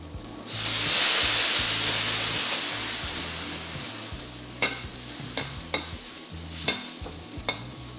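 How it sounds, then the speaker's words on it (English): Chinese cooking wine hits a hot pan of pork chops with a loud hissing sizzle that slowly fades, followed by several sharp clacks of a utensil stirring against the pan. "Pour in some Chinese cooking wine along the sides of the hot pan and hear it sizzle"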